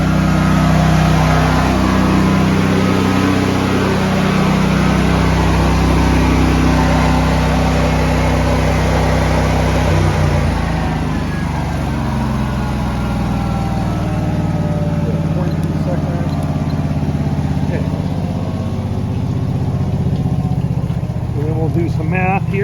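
A Honda EB11000 generator running on natural gas idles outdoors as a steady, loud low engine drone with constant hum, broken by a faint shift partway through amid wind and background noise.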